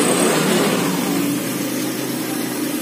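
Honda Vario 125 FI scooter engine running steadily and revved, a continuous close buzzing drone with a slight rise in intensity, no voices.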